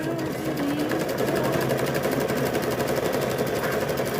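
A sewing machine runs steadily while stitching binding onto a quilt, a loud, fast, even mechanical rattle held close and unbroken for several seconds.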